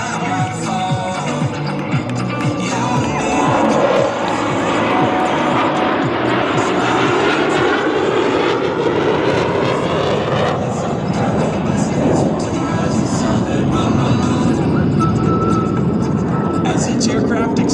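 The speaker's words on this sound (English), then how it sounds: "As each aircraft accelerates to 500 miles per hour, they will perform a half Cuban 8 reversal turn." Blue Angels jets fly at the Cleveland National Airshow, producing a loud, continuous broadband roar that swells and shifts throughout, with a public-address narrator's voice heard over it.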